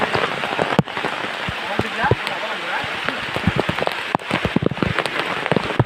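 Heavy first monsoon rain pattering hard on surfaces at night outdoors, a dense continuous downpour with sharp drops and splashes, voices faintly mixed in.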